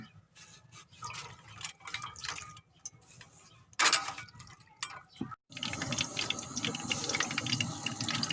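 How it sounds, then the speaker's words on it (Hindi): About 100 grams of ghee poured into a kadhai for frying vermicelli (seviyan), with scattered light clinks, then a steady, fairly loud liquid pour and sizzle that carries on from about halfway through. "अब हम कढ़ाई में घी डालेंगे"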